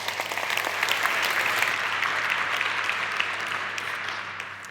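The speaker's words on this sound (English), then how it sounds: "if we could have some applause for her as well" An audience at a research summit applauds a speaker, a dense, steady wash of clapping that holds evenly and fades slightly toward the end.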